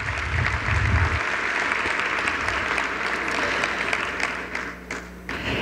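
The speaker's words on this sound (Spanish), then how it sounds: "Aplausos para ella." Dense, steady applause from an audience at an award ceremony during the 2023 Camacol construction-industry congress on gender equity, filling the whole stretch and thinning slightly near the end.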